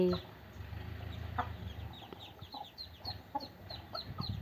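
A hen brooding ducklings clucks softly in short, scattered bursts over a quiet farmyard background, with faint chirps and low rustling around her.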